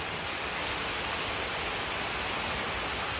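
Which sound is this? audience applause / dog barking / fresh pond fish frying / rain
rain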